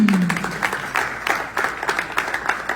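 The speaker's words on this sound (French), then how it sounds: "Applaudissez, applaudissez, s'il vous plaît." A church audience claps to welcome a guest pastor, a crowd of hands beating in loose rhythmic bursts at moderate loudness.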